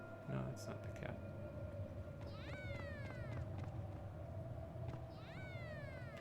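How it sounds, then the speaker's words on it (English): Cat meows in the video game Tales of Xillia 2, two short rising cries over a steady game soundtrack with background clatter. "Ooh, hang on, I just heard a cat."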